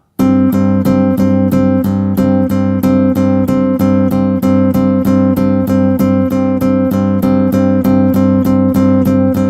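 A Chapman Stick plays a steady legato run of evenly spaced tapped notes, smoothly connected and ringing, continuing at a regular pulse throughout.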